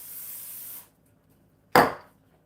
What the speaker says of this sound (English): I have my griddle going here, and I have some olive oil spray, and I'm gonna spray it,